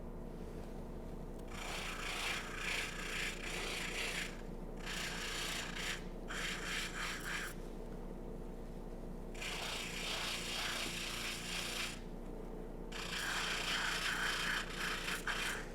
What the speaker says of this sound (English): we just fleshed around one of the shot holes